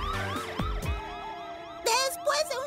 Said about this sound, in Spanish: Soy consciente de que hay una sirena